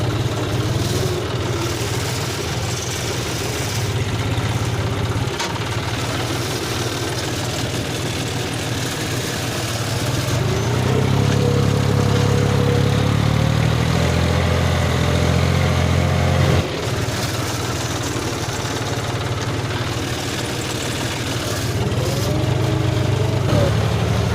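A John Deere D-series farm tractor engine runs steadily at idle, a continuous mid-pitched diesel drone that grows louder and rougher for several seconds in the middle before settling back.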